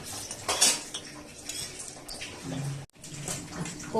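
Pudding mixture of milk being stirred in a pan with a metal spoon, giving steady scraping and clinking of utensil against cookware, fairly close and continuous with a brief gap.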